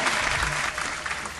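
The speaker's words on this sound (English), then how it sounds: "Let's clap it up for her." An audience applauds to welcome a guest onto a morning talk show, a dense and steady burst of clapping close up that fills the whole moment.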